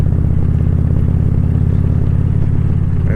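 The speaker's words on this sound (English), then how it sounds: "The bike sounds pretty good with that exhaust too" Motorcycle fitted with a true dual exhaust merging into a single muffler, its engine idling or running steadily with a deep, loud, continuous rumble close by, no talking.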